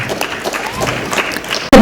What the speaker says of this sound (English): With a huge round of applause, ladies and gentlemen, let us welcome on stage Ms.